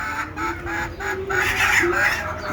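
Native desi chickens cluck and call close by in a short burst of repeated, nasal vocalizations, with some voice audible in the background.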